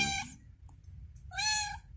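A cat meows twice, short high-pitched calls separated by a brief pause, fairly close against a quiet, low background hum, at an outdoor cat shelter.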